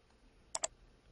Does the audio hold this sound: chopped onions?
no